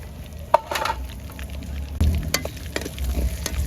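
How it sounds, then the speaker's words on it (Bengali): Dried red chilies, bay leaf, cardamom and cloves dropped into hot mustard oil left from frying meat, giving a close, steady sizzle and crackle with a couple of sharper bursts as the spices hit the oil. "মাংস ভাজার তেলে এখন এই বাকি মশলাগুলো দিয়ে দিব এখানে চার পাঁচটা শুকনো মরিচ নিচ্ছি তেজপাতা এলাইচ লবঙ্গ এগুলো দিয়ে দিব"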